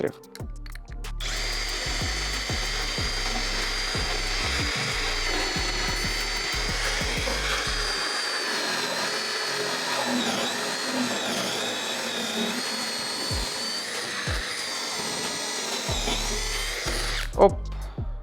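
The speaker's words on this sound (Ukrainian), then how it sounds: "беремо сверло Форснера 25 мм" A compact cordless drill (Dnipro-M CD-200BC) bores a 25 mm Forstner bit into a pine beam, holding a steady loud whine for about seventeen seconds with gritty cutting noise, then stopping near the end. Background talk runs underneath.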